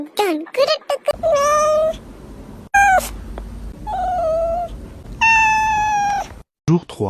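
Several kittens meow in loud, high, drawn-out cries that come in separate bursts, with other voices and background noise between them.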